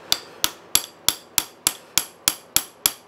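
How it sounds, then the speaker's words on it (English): Ten evenly spaced sharp metallic taps as a brass punch is hammered to drive the lead screw out of a Sheldon lathe held in a 1920s bench vise, crisp and close with brief ringing decay and no talk. "Just use my brass punch. Drive the lead screw out"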